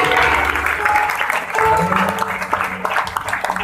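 Applause from a church congregation gathered for a new prayer house, dense and steady for several seconds, with a few voices and other sounds mixed in underneath.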